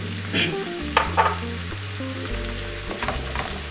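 Onions sizzle loudly in a hot pan after a splash of water goes in, a steady close hiss with a few sharp crackling bursts and low stirring scrapes, no talking.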